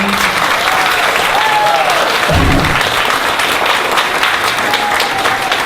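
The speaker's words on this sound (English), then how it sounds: "can we give a clap to Missy for cleaning up after me?" An audience at a Retropalooza 2018 convention panel applauds steadily for several seconds, a dense continuous clatter of many hands with a few louder bursts and faint voices mixed in.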